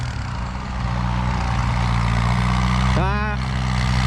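A Kubota M9540 tractor engine runs steadily with a deep low rumble throughout, loud and close, and a brief rising whine near the end.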